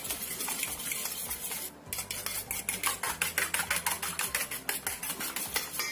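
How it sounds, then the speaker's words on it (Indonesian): Close, steady whisking of an egg mixture seasoned with salt and pepper, a fork or whisk clinking rapidly against the bowl in a continuous scraping rhythm for several seconds, with a brief pause partway through. "Kocok sampai tercampur."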